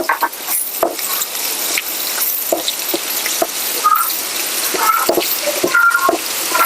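Green chilies and small tomatoes sauté in a hot pan, a steady close sizzle with scattered clinks and scrapes of a spoon stirring against the metal.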